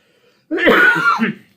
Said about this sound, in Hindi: सॉरी थोड़ा खांसी हो रखा है।